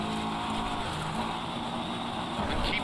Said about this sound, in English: The engine is not right. The engine definitely is not right.